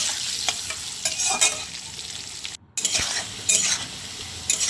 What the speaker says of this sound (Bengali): তারপর কড়াইতে আবার আলুগুলো দিয়ে সেগুলো ভালোভাবে ভেজে নিলাম